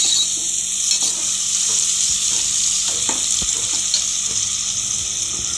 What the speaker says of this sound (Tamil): இப்போ இது நல்லா நம்ம வதக்கணும்